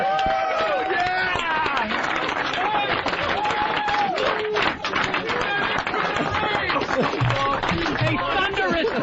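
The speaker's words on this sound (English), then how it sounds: "A thunderous round of applause." A thunderous round of applause in a radio studio, dense clapping and cheering mixed with laughter and excited chatter from several people throughout.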